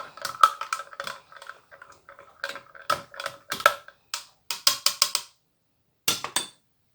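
Spoon stirring juice in a glass or jug after pepper and salt are added, a run of sharp clinks and taps in quick irregular bursts with short pauses, close and fairly clear, no talking.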